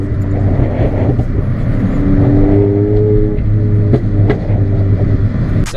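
Loud Mini Cooper S exhaust on a Milltek non-resonated cutback system with a Janspeed decat, a steady, booming drone with rising and falling engine tones and a few sharp pops, continuous and close throughout.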